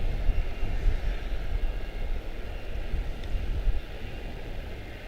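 A heavy jet bound for Madrid taxis toward runway 18 Center at Charlotte-Douglas International, giving a low, steady engine rumble at moderate distance, fairly quiet and continuous with no one talking.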